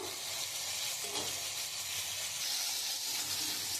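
Potatoes frying in a pan make a dense, even hiss of sizzling oil throughout, steady and fairly close, with no talking.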